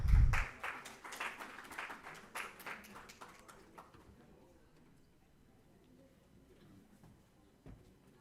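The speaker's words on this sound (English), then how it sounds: "Please welcome her with a round of applause." Conference audience clapping begins loud and dense, then thins and fades away over several seconds until the room goes nearly quiet.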